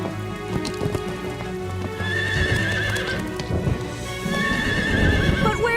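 A cartoon horse whinnies several times over steady clip-clopping hooves, with rain pattering on surfaces throughout during a storm.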